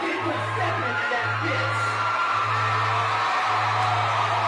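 Crowd cheering and whooping at a rally fills the scene as a steady, dense wall of voices, with a low droning hum running underneath throughout.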